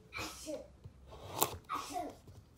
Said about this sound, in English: Oh, you fake sneezing.